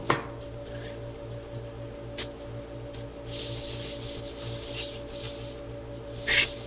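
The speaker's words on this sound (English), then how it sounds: "You're basically wiping it on and wiping it off" Rags wiping over a bathtub surface before priming make soft, repeated rubbing swishes in uneven bursts over a low steady background hum.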